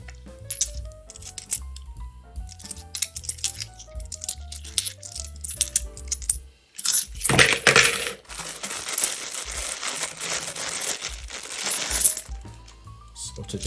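£2 coins tipped from a bag and handled, giving dense metallic clinks and jingling that swell into a loud clattering pour midway, then settle into scattered clinks, with a faint tonal backdrop.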